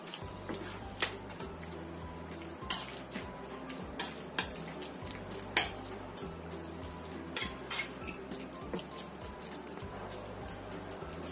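A spoon stirs a seasoned food mixture with sesame oil in a bowl, giving repeated light clinks and scrapes at an irregular rhythm, close and fairly quiet over a steady low hum.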